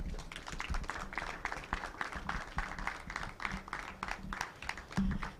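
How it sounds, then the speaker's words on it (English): An audience applauds after a presentation at a release event on maternal health care service use, with steady, dense clapping throughout at moderate loudness. "Let's keep the applause coming before Dr. Abaka takes his seat."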